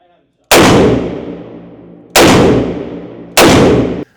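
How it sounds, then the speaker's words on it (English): Three booming shots from a Smith & Wesson 500 Magnum revolver with a 4-inch barrel, each very loud and close, with a long decaying tail, spaced a second or two apart. "After that first round, I fired 5 more shots."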